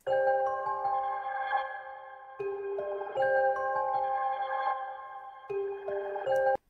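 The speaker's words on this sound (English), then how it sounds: "But I think I pitched it up a couple semitones and now it sounds like this." A dark sample pitched up a couple of semitones in FL Studio plays alone as sustained, layered tonal chords that shift in steady blocks, ending with a brief click.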